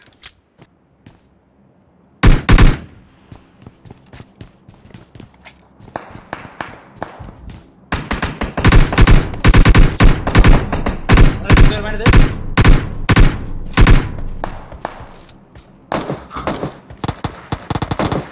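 Bursts of gunfire in the mobile battle royale game PUBG Mobile, sharp shots starting after a quiet stretch and then dense, rapid volleys of loud automatic fire with footsteps between them.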